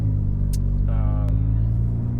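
An APR Stage 3+ tuned Volkswagen Golf R sits on launch control near 4,000 rpm, engine rumbling loud and steady inside the cabin, with a brief rising whine and sharp clicks over the drone.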